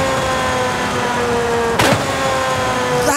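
A steady car engine drone in Forza Horizon 5 with a brief sharp break midway as the gear changes, then the engine note resumes, loud and close.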